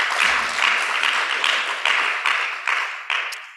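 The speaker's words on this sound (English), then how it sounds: "Can we give him a round of applause, please?" Audience applause at a conference session in Brussels, a sustained wash of many hands clapping that fades steadily over a few seconds.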